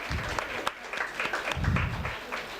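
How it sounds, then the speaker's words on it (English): Applause from a crowd fills a national seminar hall, steady clapping with a few louder claps, a voice speaking briefly over it. "Let us first of all give a big round of applause to all those"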